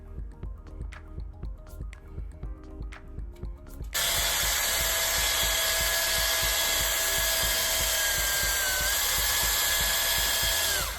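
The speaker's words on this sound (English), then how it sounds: "If you're going to use a drill with a mixer, make sure you submerge the mixer all the way to the bottom before you start stirring." After a few seconds of quiet ticking and tapping, an electric drill fitted with a mixer paddle starts up to stir paint and holds a loud, steady high whine that dips slightly in pitch near the end before cutting off.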